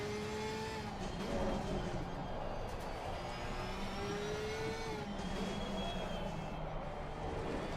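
A race car in the ACC video game at Barcelona screams at full throttle, its high engine note rising and falling through gear changes, with tires squealing through the corners.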